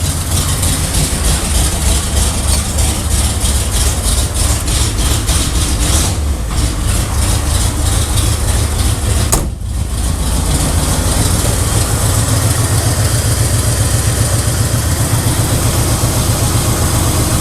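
An Oldsmobile Rocket V8 in a square body truck runs rough and uneven, a loud, steady low rumble with a lumpy idle that holds throughout, briefly dipping before settling back.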